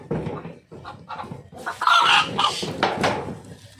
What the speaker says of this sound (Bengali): এই যে একদম দেশি মুরগি বাড়িতে ফুটিয়া মুরগির বড় হয়ে গেছে